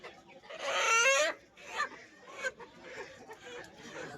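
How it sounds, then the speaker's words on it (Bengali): At a poultry market, a rooster and hen let out a loud, raspy squawking crow followed by a few shorter clucks and cackles close by, with faint background murmur. "একটা মোরগ একটা মুরগি দুটো নেব।"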